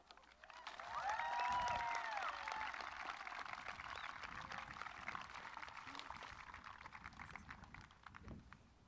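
Applause from a school graduation audience after the class of 2020 valedictorian's speech, a steady broad wash of clapping that swells early and holds at moderate level, with a faint voice briefly audible.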